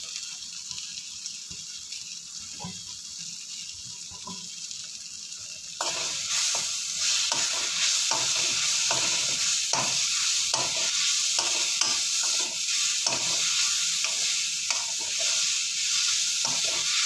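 Raw mango, peeled and cut, sautéing in a pan with grated carrot, a steady close sizzle with repeated scraping stirs after the batch drops in, preceded by quieter kitchen clatter; no one speaks.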